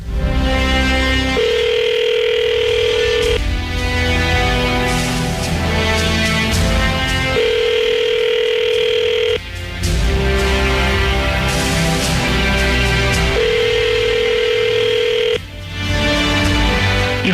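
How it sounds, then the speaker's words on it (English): A telephone call is placed over a radio broadcast and repeated ringback tones sound loudly in even cycles, each burst followed by a pause, as the call rings through toward voicemail. "let me see if we can get in contact with Rowley"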